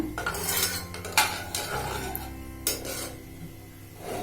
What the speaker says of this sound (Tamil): இப்போ இதை நல்லா கலந்துருங்க